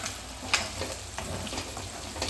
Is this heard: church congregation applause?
no